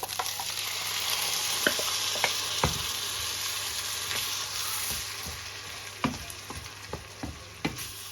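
Meat browning in a hot frying pan, a steady bright sizzle with a constant hum beneath and occasional sharp pops and clinks of stirring throughout.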